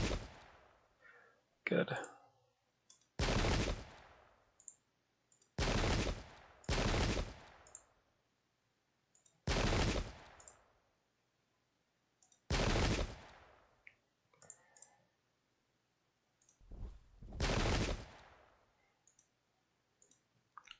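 Musket volleys crack out in the Pike and Shot game, seven or so sharp separate reports spaced a few seconds apart, with quiet gaps and faint talk between them.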